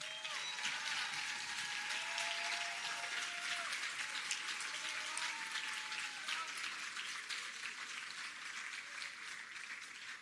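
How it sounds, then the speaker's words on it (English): Sustained crowd applause at a Ministry of Education and Youth PEP scholarship awards ceremony, a steady dense patter of many hands lasting the whole stretch, with faint voices and whistles drifting underneath. "Let's continue with the applause."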